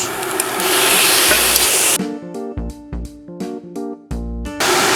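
Meat, onions, peppers and tomatoes for Ankara tava frying and being stirred in a pan: a loud, close sizzle that gives way to a few seconds of plucked tonal music, then the sizzle returns.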